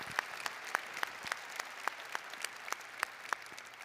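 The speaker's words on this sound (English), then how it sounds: "let's give both of them a round of applause" Steady applause from a spring commencement audience honoring an honorary doctoral degree recipient, with claps landing in an even, repeated rhythm throughout and heard at a modest distance in a large hall, no voices over it.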